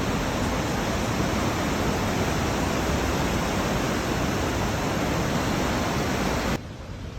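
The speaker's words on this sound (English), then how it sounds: "This waterfall is here underneath this bridge." A waterfall beneath a bridge in the town of Prospect, Oregon roars as a dense, steady rush of falling water, loud and unbroken, until it drops off sharply near the end.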